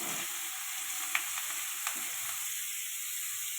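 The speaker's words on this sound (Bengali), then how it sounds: "এবার পেঁপে ভাজা করে নেব" Papaya pieces seasoned with salt and turmeric fry in a pan with a steady close sizzle, broken by a few faint clicks of stirring, and no one speaks.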